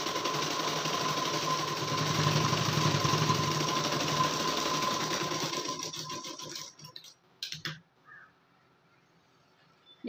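Sewing machine stitching the collar of a designer blouse: a fast, steady, close mechanical whir for about six seconds that slows and stops, followed by a few short handling clicks and near silence.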